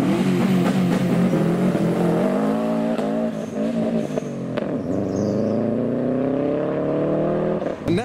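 A Japanese performance car pulls out of a car show on a slippery surface, its engine revving loud and close as it accelerates away, the note climbing and dipping through gear changes.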